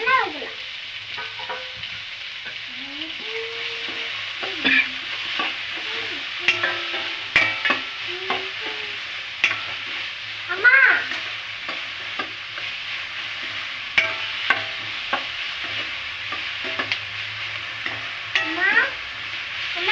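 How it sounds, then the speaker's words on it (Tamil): Onions sizzle and crackle steadily in a hot pan, with occasional stirring scrapes and a faint meow-like squeak now and then. "வெங்காயம் இப்படி பொடியாக நறுக்கி சேர்த்து நல்லா வதக்கலாம்"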